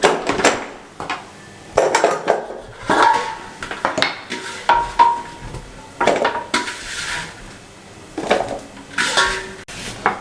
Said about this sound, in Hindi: मैं इसको भी चॉप कर लूँ साथ सबको